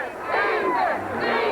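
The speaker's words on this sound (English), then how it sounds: "The Amite crowd, extremely loud." A loud high school football crowd at an Amite game roars and cheers together, a dense surging wall of voices swelling in the middle of the short burst.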